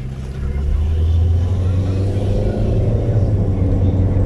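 Car interior on a drive, a steady low engine and road rumble heard from inside the cabin with faint background chatter.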